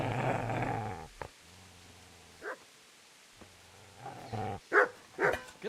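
A dog barks in Kingdom Come: Deliverance, with a few sharp yelps scattered over several seconds against a quiet background, after a short stretch of voices and game sounds.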